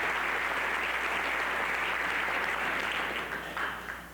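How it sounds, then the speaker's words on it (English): A Rotary Foundation audience gives a short burst of full, dense clapping that thins and dies away toward the end. "Now that's worth some applause."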